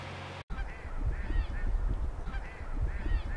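Geese in Fort Collins honk repeatedly with nasal, rising calls over a steady low rumble, the honks coming in overlapping bursts at moderate distance after a brief dropout at the start.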